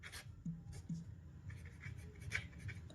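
A pen scratches faintly across paper at close range, in short strokes with small taps as it touches down.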